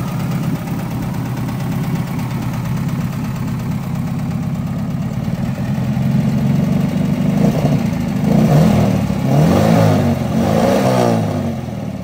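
A Volkswagen Gol with air-cooled engine and no exhaust runs loud and raw, idling with a rough, uneven chug before revving up in a few throaty bursts near the end.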